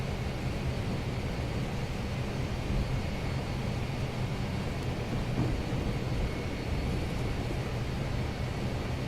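Boeing 757 taxiing onto the runway in the Prepar3D flight simulator, a steady, even engine rumble and broad roar that holds unchanged throughout with no talking.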